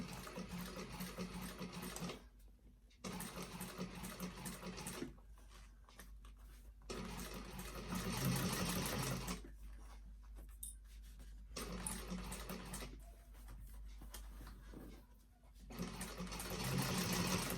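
A sewing machine stitching through the flat inside panel of a vintage expandable tote bag, running in several bursts of rapid mechanical chatter separated by short pauses.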